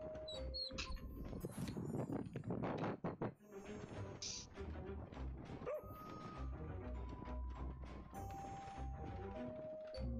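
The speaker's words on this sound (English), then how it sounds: "Bark." Dog barking in the video game Overcooked 2, short repeated yips and barks mixed into loud, busy game music and sound effects throughout.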